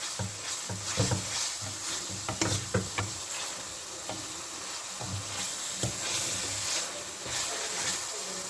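Sliced bitter gourd (karela) sizzles steadily in a hot pan while it is stirred, with soft scraping strokes and light clattering knocks heard close up over the constant frying hiss.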